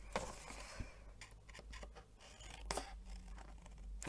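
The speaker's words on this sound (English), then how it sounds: "Just cut a slither off these outer flaps here" Scissors snip through card flaps in short, crisp cuts that come in bursts, fairly close and quiet against a faint background hum.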